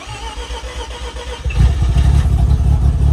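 A Mazda RX7 FD rotary engine cranks, then catches and fires at about halfway. It settles into a loud, lumpy, pulsing run, close and alone.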